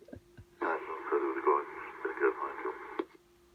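Over an air-band scanner, a pilot's radio transmission comes through as clipped, rapid talk with a hissy, narrow tone, opening and closing with click-like squelch breaks.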